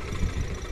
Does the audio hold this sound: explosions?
no